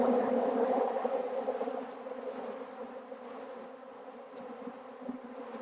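An aggressive honeybee colony in August drones in a dense, steady buzz during a hive inspection, loud and close, slowly easing slightly in volume, with no talk.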